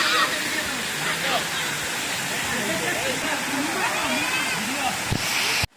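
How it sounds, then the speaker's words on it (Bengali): Waterfall at Napittachora in Sitakunda, a hill stream with several falls, rushing as a steady loud roar while people talk over it throughout. "প্রায় 4টা ঝর্ণা আছে এখানে, 4 থেকে 5টা ঝর্ণা আছে এখানে।"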